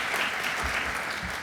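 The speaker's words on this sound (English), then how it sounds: "If we could really give them one more round of applause." Dense, steady applause from a union event crowd fills a brief moment, loud and continuous without a break.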